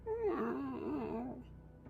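A human voice mimics a dog's whimper, a rising-and-falling whiny tone held for over a second that fades away, alone with no other speech.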